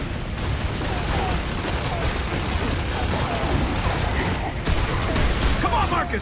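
Dense, continuous gunfire and mechanical clatter fill a combat scene in the video game Gears of War 2, loud and unbroken throughout with no clear pauses.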